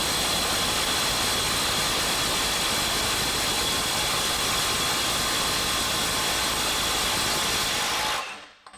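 A Milwaukee M18 compact impact wrench hammers continuously against a stubborn fastener for about eight seconds, a loud, dense, buzzing rattle that holds steady until the nut breaks free and the tool cuts out abruptly.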